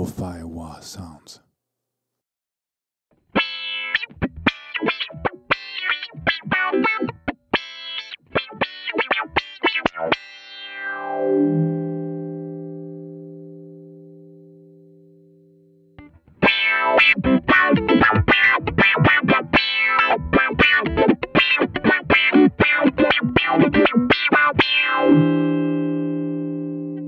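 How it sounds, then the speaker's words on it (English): An electric guitar runs through a Zorg Effects Love Philter pedal set for lo-fi wah tones: choppy, rapid distorted phrases, then one long note slowly dying away, then another dense burst of filtered playing, loud and up close. "Change the filter type to get lo-fi wah sounds."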